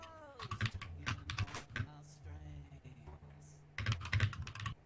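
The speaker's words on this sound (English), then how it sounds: "Sorry for my aggressive typing while I was taking notes." Fast, hard typing on a clicky keyboard during note-taking: bursts of sharp, close clacks separated by a quieter pause, with a cat meowing and a voice talking faintly in between.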